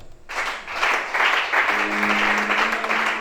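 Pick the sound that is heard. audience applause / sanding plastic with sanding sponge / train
audience applause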